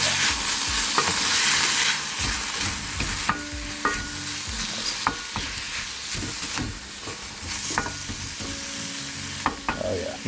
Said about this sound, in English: Let's go ahead and mix that in.